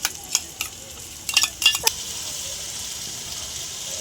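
A spice and yogurt mixture goes into a hot pan of oil and chillies for a rohu fish curry, with several quick clatters and bursts followed by a steady, moderate sizzling hiss.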